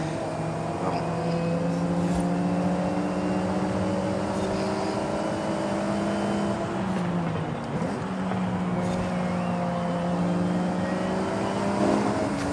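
Alfa Romeo 4C engine note in a racing video game, a steady loud drone with harmonics holding high revs, dipping briefly around a gear change and climbing again while driving fast into a corner.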